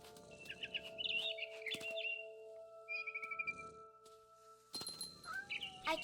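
A cat meows in the video game What Remains of Edith Finch, with a few short cries over steady game music and birdlike chirps, fairly close and clear.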